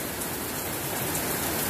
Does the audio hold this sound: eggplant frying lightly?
no